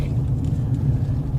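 Steady low engine rumble and road noise from inside a moving car, continuous and even throughout with no talk over it.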